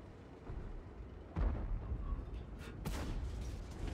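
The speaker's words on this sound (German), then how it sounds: "Mal da hinten einen Blindschuss hinmachen." A tank in World of Tanks fires a blind shot, a single muffled boom rising out of low battlefield rumble, followed by fainter distant thuds.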